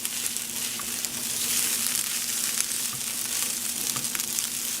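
Vegan stir fry with sprinkled chili flakes being mixed in a pan over medium-high heat, giving a soft continuous sizzle with a few faint stirring scrapes, close and without talk.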